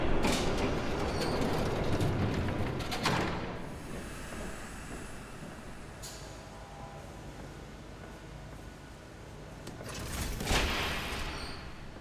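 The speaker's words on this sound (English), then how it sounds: "There's a train coming." A train approaches in the Batman Telltale Series game, a continuous heavy rumble of rolling wagons with clattering bursts near the start and again near the end.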